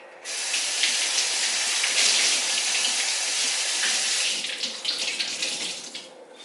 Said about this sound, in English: So I'm gonna use the same rag that I was using to clean the mirrors because I'm done using it for that. So I'm gonna rinse it real quick.